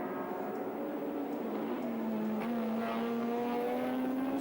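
A turbocharged BMW touring car races at Sandown in 1984, its engine note climbing and falling in a clear, somewhat distant howl with a brief dip mid-run.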